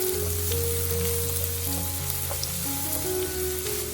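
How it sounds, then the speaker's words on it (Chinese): Minced ginger and garlic hit hot oil in a wok over high heat, producing a loud, continuous crackling sizzle with faint stirring clinks underneath and no voices. "油热之后下入姜蒜末，用大火炒出香味"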